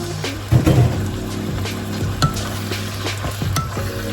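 Pork stir-fried with fresh green peppercorns in hot oil gives a continuous sizzle, with a few louder bursts and metallic scrapes as the spatula turns it. The sound is close and carries no talking.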